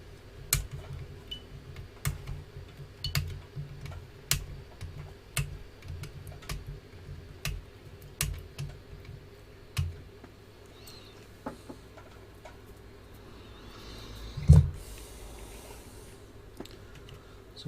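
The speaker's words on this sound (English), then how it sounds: "Let's cut the old legs off." Sharp clicks of flush cutters snipping component legs off a soldered calculator kit board, about a dozen evenly spaced snips close by, then quieter handling and a single heavier knock near the end, with no talk.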